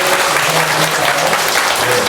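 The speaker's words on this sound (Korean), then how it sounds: "우리 열렬한 박수로만 환영을 할 텐데" A Korean church congregation gives enthusiastic welcoming applause during Sunday worship, a dense, loud wall of clapping filling the room without pause.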